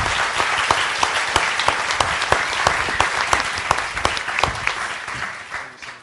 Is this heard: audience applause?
yes